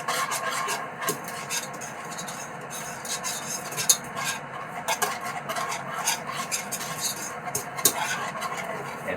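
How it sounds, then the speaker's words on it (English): A whisk scrapes and stirs steadily through sauce in a pan over low heat, making a close, continuous rasping and clinking against the metal with small irregular taps. "Right, so you just whisk it."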